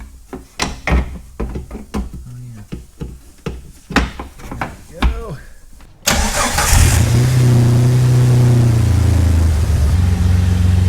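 A Jeep TJ fitted with a new THOR cold-air intake: a series of clicks and clunks, then the engine cranks and catches, settling into a loud, close, steady idle with a brief rise in revs.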